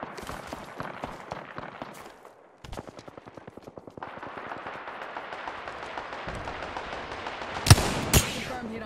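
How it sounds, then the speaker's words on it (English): Gunfire in Apex Legends arrives as rapid bursts of automatic fire followed by a couple of louder, heavier shots near the end, with game sounds running throughout. "Some drunk is shooting at me."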